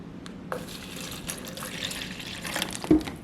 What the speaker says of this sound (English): I'm just gonna pour water into this